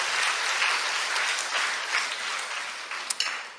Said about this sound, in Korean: 박수로 하나님께 영광입니다. 박수로.